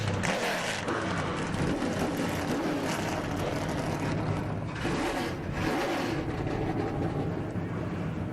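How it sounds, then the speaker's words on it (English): Stock car engines fire up and roar together at the Ansell Protective Gloves 200 race, a dense, continuous, loud rumble with crowd noise throughout. "start your engines"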